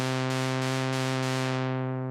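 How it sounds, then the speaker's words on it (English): A bright, buzzy sawtooth synth lead holds one sustained note, rich in harmonics, with a faint rhythmic pulse and the top end slowly closing toward the end. "This is the lead by itself that we've tweaked a little bit"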